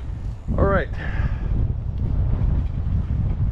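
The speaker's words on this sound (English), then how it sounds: "I apologize if it's windy." Low rumbling wind buffets the microphone continuously at a seawall in Okinawa, Japan, with a brief rising tonal whine early on and a voice mixed in.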